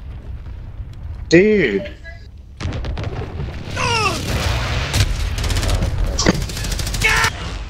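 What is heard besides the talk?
enemy precision airstrike explosions in a video game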